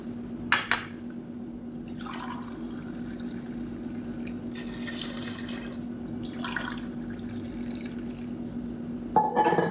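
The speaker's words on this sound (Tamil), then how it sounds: "இந்த டம்ளரில் 3 டம்ளர் அளவுக்கு தண்ணி சேர்த்துக்கலாம்." Mutton cooking water is poured from a tumbler into a pot of seeraga samba mutton biryani, heard as intermittent splashes and trickles over a steady low background hum, with a sharper clatter near the end.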